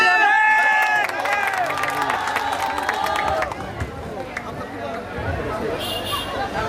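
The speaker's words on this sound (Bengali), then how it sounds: "জোরে তালি হবে।" Crowd clapping and chattering at a raffle draw held by a Walton exclusive distributor in Joypurhat, as a prize blender is handed over. A dense, lively burst of claps and voices comes first, then settles into a steady hubbub of murmuring people.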